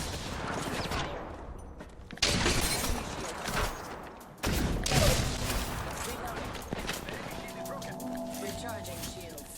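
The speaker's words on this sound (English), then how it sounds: "I'm really missing with the Sentinel right now" A Sentinel weapon fires in a shooter video game, giving sustained harsh bursts of zapping, crackling gunfire with sharp onsets, loud and dense over busy in-game combat noise.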